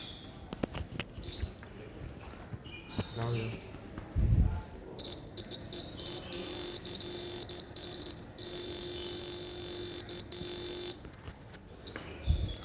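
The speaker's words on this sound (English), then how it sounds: "the buzzer starts beeping." A buzzer on a laser security science project beeps in long, steady, piercing tones, sounding for several seconds with brief breaks, over background noise and some clatter.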